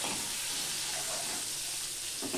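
Eggs fry in hot oil in a pan, a steady close sizzle with a bright hissing wash that holds constant for a couple of seconds.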